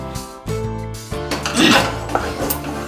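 Cashew barfi mixture is stirred in a pan on low heat, with metal spoon clinks and scrapes against the pan, some ringing, interrupted by a brief lull, close and moderately loud.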